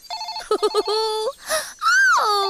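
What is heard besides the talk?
telephone ringing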